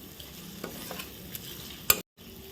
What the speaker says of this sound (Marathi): हा बारीक चिरलेला कांदा घालूया कांदा पण आपण हा छान परतून घेणार आहोत